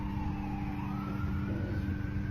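Police car sirens wailing in the background, a steady rising and falling tone under a constant low rumble, moderately loud and continuous.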